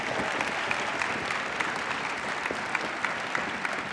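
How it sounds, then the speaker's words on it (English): Steady, dense audience applause fills a university Martin Luther King Jr. commemoration hall, honoring program participants; even, sustained clapping from a large crowd throughout. "please give them all a round of applause"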